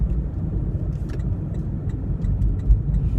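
A Toyota Prius hybrid accelerating in Power mode, a steady low road and engine hum heard from inside the car with faint ticking on top.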